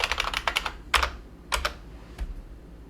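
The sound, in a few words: typing a folder name on a computer keyboard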